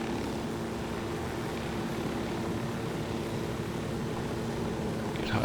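A helicopter flies in the Ghost Recon Wildlands video game, a steady, moderately faint rotor and engine drone that holds constant throughout with no talk.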